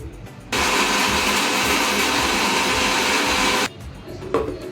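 A mixer grinder blends ginger, garlic, tomato and green chilli into paste, starting abruptly into a loud, steady whirring roar for about three seconds, then cutting off to near quiet.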